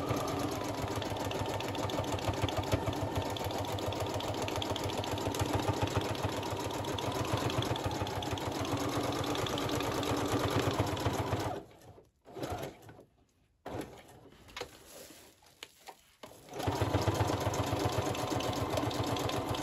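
A sewing machine stitches very close zigzags while making a journal cover, a steady near whirring drone that briefly stops and restarts in short bursts before running on again.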